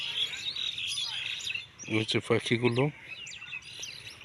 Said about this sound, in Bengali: কিচিমিচি করছে।